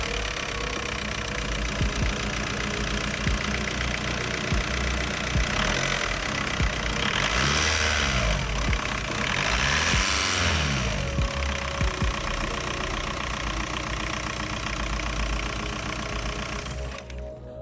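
A VW ALH TDI diesel engine runs after a timing belt repair with a loud, steady, close-up idle and diesel clatter, rising in two brief revs midway before settling back to idle.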